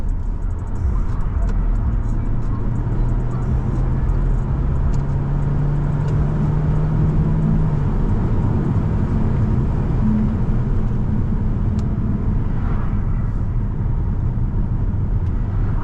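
Steady engine and road noise from inside a Peugeot 408 driving along, with a slowly rising tone as it gathers speed on a straight and faint talk underneath.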